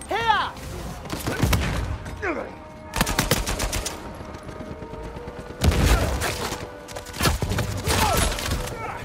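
Heavy video game gunfire in a fast multiplayer match in an auction house setting, with rapid bursts of automatic shots in loud clusters and brief pauses between volleys, plus some whooshing effects and occasional voices.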